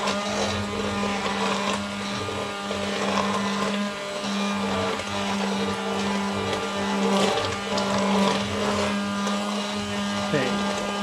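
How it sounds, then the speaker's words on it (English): A hand blender whirs steadily and loudly, its motor pitch wavering slightly as it churns through butter chicken gravy for several seconds. "I'm going to blitz this up with my hand blender."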